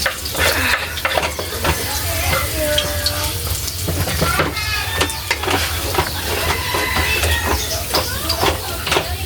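Onion and garlic fry in a pan for fried rice, giving a loud, steady sizzle with crackling and stirring noises throughout, close up.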